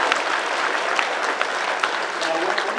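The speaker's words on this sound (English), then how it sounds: "big round of applause for his arm there" Convention audience at a celebrity Q&A at Wizard World Philly breaks into a steady round of applause, dense crowd clapping filling the whole stretch at an even level, with faint voices mixed in.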